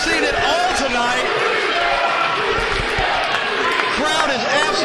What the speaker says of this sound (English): Crowd is absolutely thrilled by it.